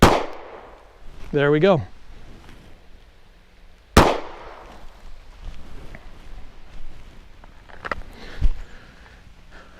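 Gunshots fired at a paper target from close range during stance practice: two sharp, loud cracks about four seconds apart and a fainter third shot near the end, with brief talk and quiet handling noise in between.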